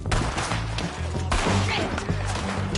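Bursts of gunfire in a PS4 video game, loud and close, with rapid cracking shots packed together amid dense game noise and a voice talking over them.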